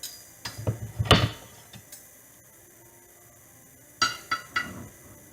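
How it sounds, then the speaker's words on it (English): A knife cuts a cooked ribeye steak on a plate, giving a few light, close clinks and scrapes in two short clusters separated by a quiet pause. "We cut it with a different knife here."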